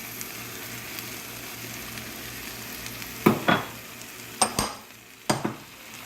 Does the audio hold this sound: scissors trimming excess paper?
no